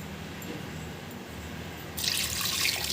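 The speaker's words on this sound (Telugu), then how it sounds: "ఇప్పుడు మూడు మూడు గ్లాసులు వాటర్ పోసేసి" Water poured from a glass into a pot of cooking mutton pieces pours and splashes steadily, growing louder and brighter partway through as it fills, with no voices.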